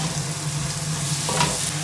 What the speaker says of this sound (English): we think that the onions and leeks are cooking very well there